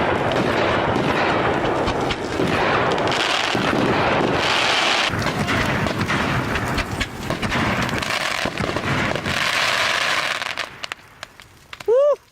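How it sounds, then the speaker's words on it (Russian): Fireworks rockets explode over a New Year bonfire of about 120 Christmas trees, a dense run of loud, rapid bangs and crackles that goes on for around ten seconds before thinning out, with voices faint beneath. "Еще бабахать будут."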